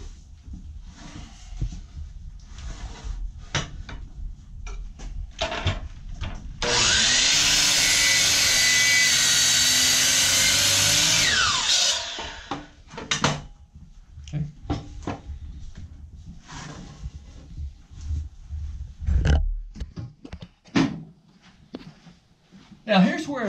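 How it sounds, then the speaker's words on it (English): A beveled miter saw cuts wood for a carpenter bee trap in a workshop, one loud, steady whining cut lasting about five seconds, with talking before and after it. "where a beveled miter saw kind of comes in handy"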